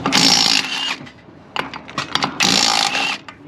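Impact wrench working a truck wheel at a truck meet, two loud sustained bursts of whirring hammering separated by a gap of lighter clanks and mechanical clicks.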